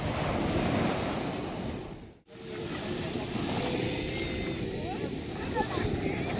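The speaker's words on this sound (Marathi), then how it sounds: "आता आम्ही पोचलो होतो समुद्रावरती" Ocean waves break on the seashore in a continuous close roar, buffeted by wind against the microphone, with a brief dropout partway through.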